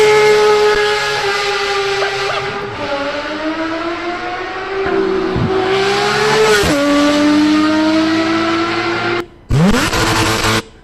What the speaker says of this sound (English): I am buying this Porsche. That is for sure. Listen to this car.